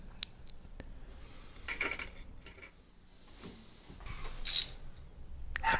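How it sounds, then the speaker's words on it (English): A ratchet loosens a 10mm bolt counterclockwise on an LG direct drive washer agitator, giving faint, scattered metallic clicks and clacks in a quiet room. "to remove the bolt, you'll turn it counterclockwise"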